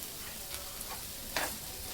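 Potato curry, a yellow Vidarbha-style bhaji with fresh coriander, is stirred in a pan. A faint, steady sizzle runs throughout, with a couple of soft spoon scrapes, one slightly louder near the end.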